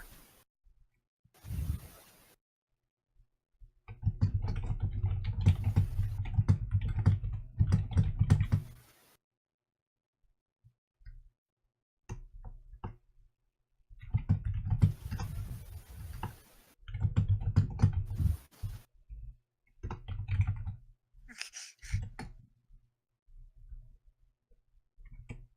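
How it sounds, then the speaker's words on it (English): Bursts of clicky keyboard typing, close and moderately loud, coming in several clusters separated by pauses, with no talking. "I'm just typing something for Adrian."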